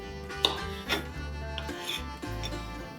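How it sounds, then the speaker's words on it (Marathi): Jackfruit flesh being cut into pieces on a board, with soft repeated rubbing knife strokes and light taps at a steady close pace, over faint background hum. "इथे हे फणसाचे गरे आहेत ते आपल्याला हव्या त्या आकारात आपण कापून घेऊया मी हे असे तुकडे करते"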